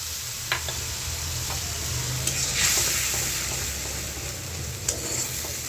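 A paste of green chilli, dried chilli powder, turmeric and onion sautés in oil, giving a continuous close sizzle with a few sharp ticks of stirring over a low background hum and no speech.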